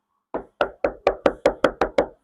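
Nine quick, dull knocks on a soundproofed Mazda CX-3 roof lining in an even rhythm, close up and muffled, each one short with a soft thud.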